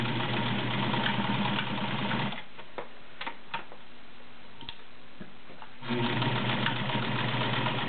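A Kenmore model 1318 sewing machine stitches through three layers of garment leather, running loud and close in a fast rhythmic chatter, pausing in the middle with a few clicks, then running again.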